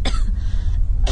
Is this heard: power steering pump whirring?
no